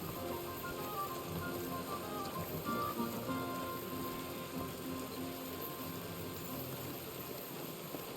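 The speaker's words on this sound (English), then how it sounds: "It's raining." Rain falls in the medieval game world of Kingdom Come: Deliverance II, a steady, soft patter on surfaces that stays even and fairly quiet throughout, with no voices.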